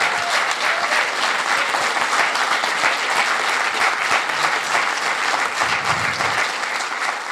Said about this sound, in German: Applaus für Jochen Schliemann.